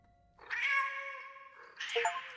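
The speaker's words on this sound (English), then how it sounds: "I'm merely demonstrating that this shows the cat's meow." Cat meow sound effect: two drawn-out meows, the first long and wavering, the second shorter and rising, heard alone and close.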